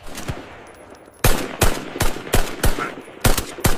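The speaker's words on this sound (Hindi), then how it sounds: "keep firing, don't let them escape" Gunfire in an army shootout: a single crack, then a string of about eight loud, close shots in quick, uneven succession.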